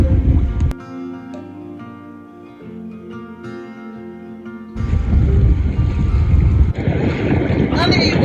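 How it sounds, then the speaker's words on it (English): A passenger paddle steamer on the Clyde sounds its deep steady horn or whistle, which drops away before heavy wind noise and water rumble take over near the microphone, with voices partly underneath. "Paddle steamer extraordinaire, and well known on the Clyde for passenger trips."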